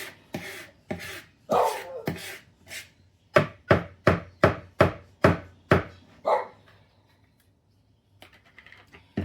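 A spatula works around a mixing bowl of cornbread batter with sour cream, scraping its sides. A few broad scrapes are followed by a run of about eight crisp, evenly spaced knocks, then it falls quiet.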